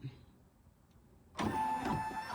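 A computerized embroidery machine stitching a snowman design starts up after a quiet lull, switching on into a loud, steady mechanical hum and whir close by.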